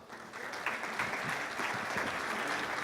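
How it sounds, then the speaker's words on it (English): A conference audience applauds steadily to welcome speakers onto a stage, a sustained wash of many hands clapping at moderate distance with no voices over it. "let's welcome them with a big round of applause"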